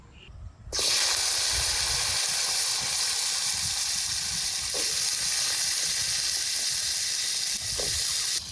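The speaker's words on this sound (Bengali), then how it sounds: "ফোড়নের উপরে আলুগুলো একটু ভাজবো" A loud, constant hissing sizzle bursts in as potatoes hit hot spiced oil in a kadai and keeps going steadily, with a few faint clinks.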